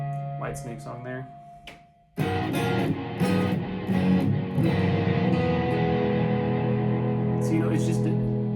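A Peavey V-Type Limited Edition electric guitar plays distorted riffs with a muddy tone, loud and sustained with ringing chords after a brief pause, while someone talks briefly at the start.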